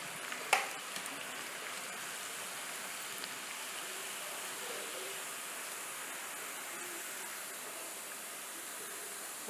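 Toor dal vadas fry in hot oil, a constant dense sizzle at an even level throughout, close and loud, with a single sharp tap near the start.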